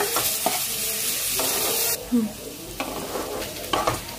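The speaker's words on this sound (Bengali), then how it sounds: "পেঁয়াজের মধ্যে নুন দিয়ে ভাজলে পেঁয়াজটা তাড়াতাড়ি সেদ্ধও হয় আর তাড়াতাড়ি ভাজাটাও হয়।" Onions fried with salt in a pan for Bengali-style chicken keema ghugni sizzle loudly while a spoon scrapes and stirs through them in a few distinct strokes.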